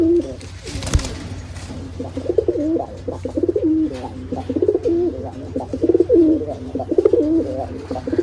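Giribaj pigeons fighting in the winter sun coo loudly and almost without pause in dense, overlapping throaty calls, close by, with a sharp knock early on.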